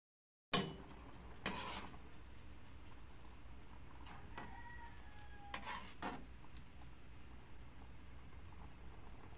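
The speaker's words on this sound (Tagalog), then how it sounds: "nilipat na nga natin sa kawali para po mabilis mahalo-halo" Utensils scraping and clinking against a wok in a few separate strokes, over a faint sizzle and quiet background hum.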